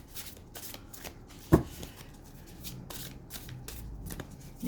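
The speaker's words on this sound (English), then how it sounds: "Let's have a shuffle here." A deck of oracle cards being shuffled by hand, with soft repeated riffling and sliding bursts close by and one sharp tap partway through.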